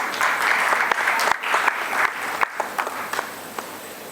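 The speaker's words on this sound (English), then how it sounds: "Can we have a huge round of applause?" Conference audience at a physiotherapy event applauds a guest invited onto the stage, a loud dense burst of clapping that thins into scattered individual claps by the end.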